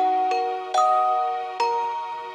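Bell sample, sliced and faded in and out for a dark emotional beat loop: three struck bell hits land about 0.7 to 0.9 s apart, each ringing with sustained overtones that slowly decay, clear and upfront with no voices.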